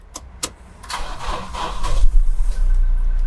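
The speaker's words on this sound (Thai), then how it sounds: "คลิกเดียวติดคุณลูกค้าค่ะ" A 2017 Toyota Hilux Revo 2.4J diesel pickup starts: two short starter clicks, a brief crank, then the engine catches and settles into a loud, steady rumbling idle close by.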